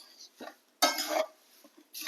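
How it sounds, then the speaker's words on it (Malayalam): A spoon scrapes and clinks in a hot pan while chilli powder is stirred, giving a few short metallic strokes and one longer scraping pass at close range. "ഒന്ന് ഇളക്കി കൊടുക്കുക."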